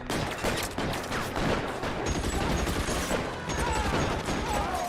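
Gunfire in a shootout in the game L.A. Noire, dense rapid bursts of shots and fusillades crackling close and loud without pause.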